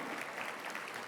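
A brief burst of lecture audience applause, dense steady clapping from many hands at moderate volume.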